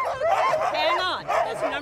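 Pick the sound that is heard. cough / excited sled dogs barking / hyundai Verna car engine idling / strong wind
excited sled dogs barking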